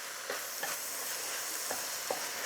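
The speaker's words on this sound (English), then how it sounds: "we got that sizzle" Chili ingredients sizzle and crackle steadily in a hot pot, with a few sharper scraping stirs breaking through the constant frying hiss.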